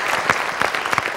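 A church congregation gives a short burst of praise clapping, a dense crowd of hands at moderate loudness with a few sharper claps standing out.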